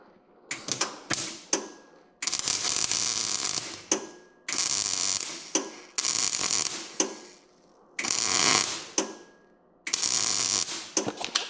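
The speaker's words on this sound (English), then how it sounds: "Making me weld galvanized pipe." Galvanized pipe being welded: crackling, hissing bursts of arc noise, each lasting one to two seconds, separated by short silences and a few sharp clicks, heard close and loud.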